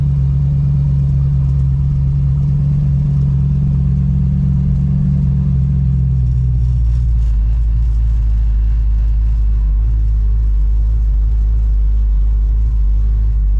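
A 1955 car engine with a big camshaft rumbles with a deep, lumpy low-end throb, loud and close, settling into a steady heavy idle partway through.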